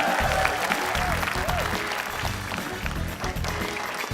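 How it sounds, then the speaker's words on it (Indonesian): A game-show audience at an Indonesian Independence Day episode claps in a dense, continuous burst that stays fairly loud throughout. Rhythmic music thumps underneath. "kita beri tepuk tangan terlebih dahulu dong"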